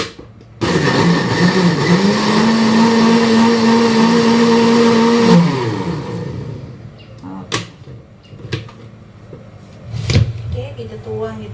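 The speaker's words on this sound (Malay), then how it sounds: "Blender. Cepat." A blender whirs loudly for about five seconds, then cuts off, followed by kitchen clatter and brief talking.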